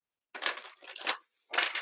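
Tarot cards being shuffled during a live reading, three short papery riffles separated by brief pauses, close and fairly quiet.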